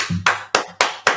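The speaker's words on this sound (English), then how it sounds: "I'm gonna clap it up" Hands clap close by in a steady rhythm, four sharp, loud claps about a quarter second apart, with a faint hum between them.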